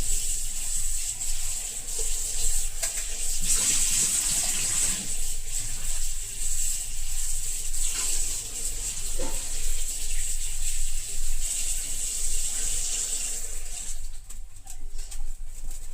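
Gongura leaves being washed by hand under running tap water, a steady splashing and rubbing wash that carries on through the whole stretch with no talk.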